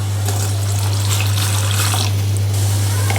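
A continuous stream of vinegar pours with a dense, hissing trickle, over a steady low hum.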